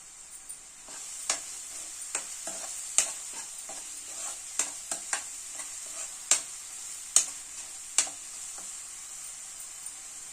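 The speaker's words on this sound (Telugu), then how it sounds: "ఇదంతా చక్కగా వేగిపోయింది" Ingredients for a chicken curry fry in a pan, a steady soft sizzle broken by repeated sharp scraping clicks as a spoon stirs them, close and fairly quiet with no talking.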